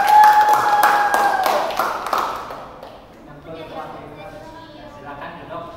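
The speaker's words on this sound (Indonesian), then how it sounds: "Tepuk tangan semuanya." A classroom claps for a student group after its presentation, a short burst of scattered hand claps with a ringing tone that dies away after about three seconds, followed by faint background murmur.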